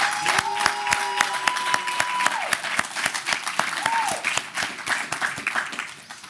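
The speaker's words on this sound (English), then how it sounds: "Give yourselves a round of applause." A graduation-ceremony audience at a leadership academy bursts into loud, close applause, many hands clapping in a thick, continuous wash with a few brief tonal sounds over it.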